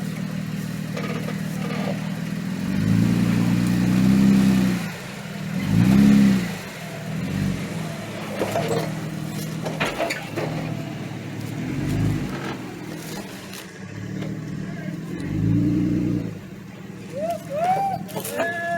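A Jeep with front and rear lockers engaged revs its engine in repeated surges while crawling over an obstacle on an off-road trail, loud and close, with people talking intermittently over the engine.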